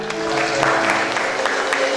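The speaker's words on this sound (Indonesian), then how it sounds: "Sekali lagi berikan tepuk tangan" Audience clapping at a church wedding blessing in Semarang, steady and fairly loud, with a sustained musical tone running underneath.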